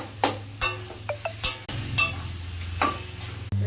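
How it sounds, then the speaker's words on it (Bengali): Boiled taro leaves are stirred in a pan with salt, turmeric and garlic paste, giving a series of sharp clinks and taps of a spatula against the metal pan, spaced irregularly over a low hum, close up and without speech. "কচুর শাক সিদ্ধ করা এবার দিয়ে দিলাম, নাড়াচাড়া করবো।"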